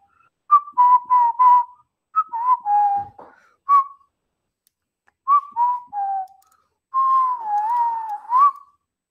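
A person whistles a short tune alone in several bursts of clear, pitched notes, some quick and clipped, others longer and sliding, with brief silent gaps between phrases.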